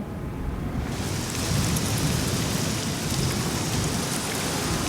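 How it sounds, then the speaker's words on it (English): Heavy rain pours steadily over a motor-racing scene at Silverstone, a dense hiss that swells slightly after the first second, with faint low rumbles of thunder underneath. "Raining cats and dogs,"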